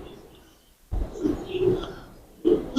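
A pigeon coos in low, soft bursts while being handled and inspected, with a short pause before the cooing resumes close by; someone talks over parts of it.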